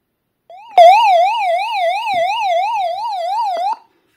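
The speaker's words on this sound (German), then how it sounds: "Wenn ich auf das SOS lange drauf drücke, ertönt ein ganz lauter, ein SOS-Ton. Also eine Sirene sozusagen." The SOS alarm of a Greadio solar hand-crank radio with LED light wails loudly and close by, a rapidly warbling electronic siren that runs steadily for about three seconds with no speech over it.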